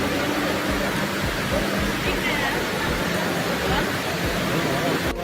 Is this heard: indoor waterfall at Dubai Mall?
yes